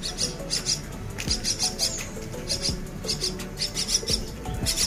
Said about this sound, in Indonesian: ini adalah burung hybrid antara jalak putih dan jalak red